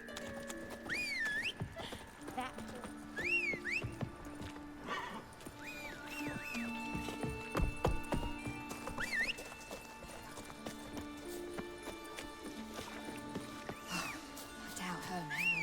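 Geralt's horse Roach in The Witcher 3 trots with steady clip-clop hoofbeats and gives a few whinnies, set against game music.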